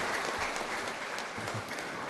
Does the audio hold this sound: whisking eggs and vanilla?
no